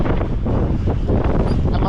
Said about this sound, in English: it's a strong wind over here